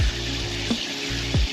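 Water sprays steadily from a Camp Lux Nano 3 Pro portable shower with a broad, even hiss, close and loud, broken by a couple of brief lower-pitched gurgles or splashes.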